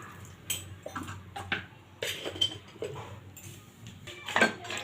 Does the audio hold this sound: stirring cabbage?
yes